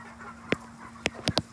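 Free-range chickens on pasture give a few short clucks and squawks, one single call and then a quick cluster of three, near and moderately loud over a faint steady hum.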